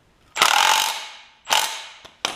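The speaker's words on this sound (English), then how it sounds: "put this nut in, which I still need to tighten down" A ratchet tightens a nut onto the front axle of a Craftsman LT1000 riding mower, two fast metallic clicking runs followed by a brief click and another short burst, close and loud with no talk.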